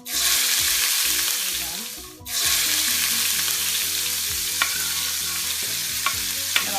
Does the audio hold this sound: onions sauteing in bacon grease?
yes